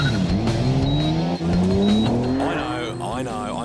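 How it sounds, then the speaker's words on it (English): A racing car on a hot lap roars close by, its engine pitch climbing steadily through the rev range before easing off, with a voice speaking over it near the end. "hop in a racing car, and not just experience a hot lap with another driver"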